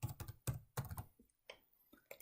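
Quick bursts of keystrokes on a computer keyboard, close and quiet, come in short irregular clusters with small gaps between them and no speech.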